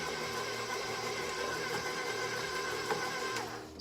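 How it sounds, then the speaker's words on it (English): A KitchenAid stand mixer churns snowball cookie dough with nuts in a steady, close mechanical whir that winds down at the end. "I'll let the KitchenAid do the work for me."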